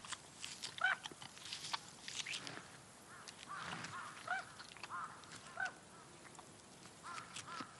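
Scattered bird calls and squawks ring out at a moderate distance in a Russian forest near a tiger's kill, some harsh and honking, over a faint outdoor background with occasional rustling.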